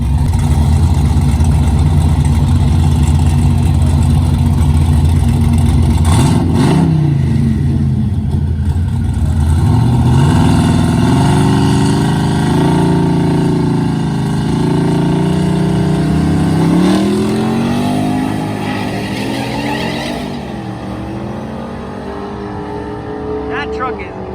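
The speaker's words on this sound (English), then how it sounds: "That truck is moving." A heavy 6,000-pound truck at Rocky Mountain Race Week revs and accelerates hard, its loud engine note climbing through several gear changes and fading slightly as it pulls away, with voices talking over it.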